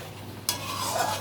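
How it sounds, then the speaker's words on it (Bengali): A spoon stirs chicken gravy with green chili and ground black pepper, producing a short, close scrape against the pan over a soft background sizzle. "এবার সব কিছু ভালো করে একটু মিশিয়ে নিচ্ছি।"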